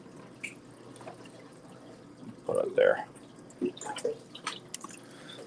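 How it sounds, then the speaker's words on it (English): Water poured into a pot holding clownfish eggs, with a few brief splashes and drips. A voice talks over the pouring. "So we put enough water so it keeps the pot covered while we're transporting them downstairs."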